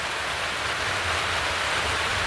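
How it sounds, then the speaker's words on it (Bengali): Rain falling outdoors as a constant, even hiss with no breaks, heard close and alone for a couple of seconds. "এখানে বৃষ্টি হচ্ছে"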